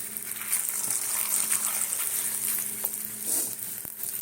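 Radish paratha frying in oil in a pan, giving a steady close hiss and crackle with a faint low hum underneath and a few brief clinks near the end.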